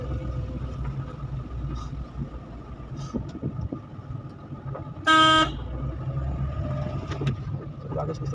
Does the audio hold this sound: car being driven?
yes